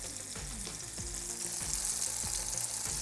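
Lemon slices frying in a pan for a lemon butter sauce, a dense, continuous close sizzle with occasional soft scraping or stirring strokes throughout.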